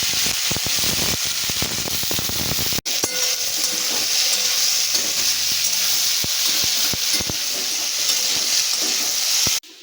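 Bitter gourd and potato frying with nigella seeds in hot oil, a loud steady sizzle and hiss that runs almost unbroken from near by, with a brief break and a few clicks of stirring.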